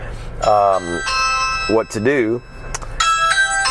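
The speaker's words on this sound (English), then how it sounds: "That is my doorbell, my Ring doorbell on my phone." A Ring doorbell chime plays from a phone speaker, bright repeated bell tones near the start and again at the end, with a person speaking in between.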